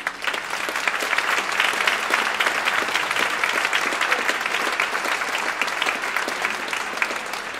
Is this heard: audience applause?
yes